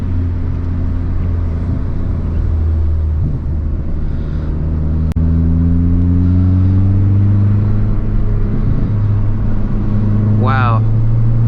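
A 2020 Hyundai Veloster N Performance Pack engine revs up loudly from inside the cabin, its tone climbing steadily through the gears with a brief shift break, close and dominant throughout.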